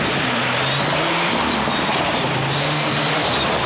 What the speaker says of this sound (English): Another Mitsubishi, this time number 11, Vince Wotton.